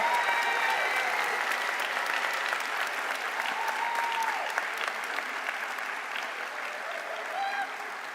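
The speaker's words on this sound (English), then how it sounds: "Give yourselves another round of applause." Sustained applause from a large audience at a college commencement ceremony, steady and dense clapping throughout, with faint cheering and whistles mixed in.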